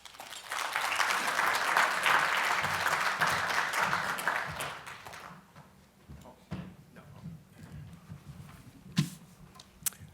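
An audience at a conference briefing applauds to welcome a speaker to the stage, a steady dense clapping that fades out after about five seconds, followed by quiet room shuffles and a couple of soft knocks.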